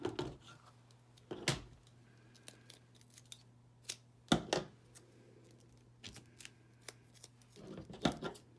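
Scissors snip through strips of 1/8 inch foam tape, a few short, crisp cuts spaced apart with quiet handling in between, close and moderately loud.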